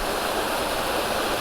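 Water is pumped into a canal lock at Caen Hill, a loud, continuous rushing roar like a waterfall, close and unbroken.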